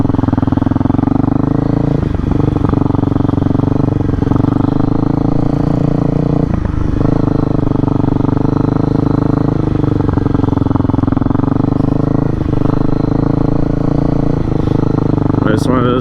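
An Apollo 125cc dirt bike ridden in a field, its single-cylinder engine droning steadily and loudly with small throttle dips, close by, while a voice talks over it.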